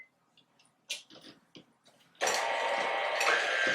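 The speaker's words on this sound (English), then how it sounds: "I'm going to whisk this up using the mixer." An electric mixer whisks half a stick of butter for an eggless chocolate cake, starting with a few short clicks and knocks before the motor kicks in loud and steady for the last second and a half.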